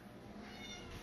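A cat meows in a cramped room at home, a single drawn-out call heard fairly close against steady background noise.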